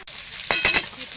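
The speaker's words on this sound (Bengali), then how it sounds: "মাছগুলো এভাবে উল্টে পাল্টে ভেজে নেব।" Fish rubbed with turmeric and salt being fried and turned over in a hot wok, a steady oil sizzle with a few louder bursts of spatter and scraping as the pieces are flipped.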